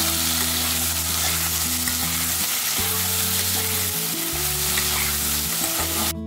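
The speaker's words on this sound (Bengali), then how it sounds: "একটুখানি ভেজে নিচ্ছি, আলুটা ভাজার মতো" Potato pieces fry with salt and turmeric in a pan, giving a steady, close, crackling sizzle over a low continuous hum, with no talking.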